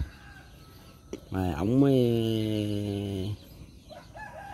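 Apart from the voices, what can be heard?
fighting rooster crowing and clucking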